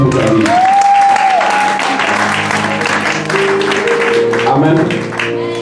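A church congregation applauds loudly and continuously in praise during a French-language service, with voices and tones rising over the clapping throughout.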